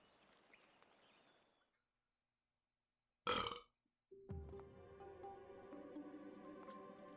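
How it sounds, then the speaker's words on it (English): A burp bursts out loud and brief in the middle of a Skyward Sword gameplay session, set between quieter game audio before it and steady game music and sound effects after it. "My burps taste like chicken."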